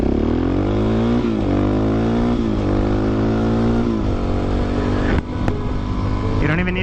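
A Suzuki DRZ 400SM supermoto motorcycle accelerates with its engine note climbing and dropping through several gear changes, loud and close, a steady engine roar without talk.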